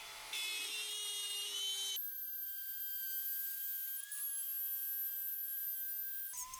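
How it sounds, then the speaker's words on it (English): A plunge router bit cuts wood around a template for a wooden Christmas lantern, giving a steady, close, high-pitched whine with a brief drop in pitch partway through. "With the router up against the template, I'll plunge the bit all the way down and slowly make my way around clockwise."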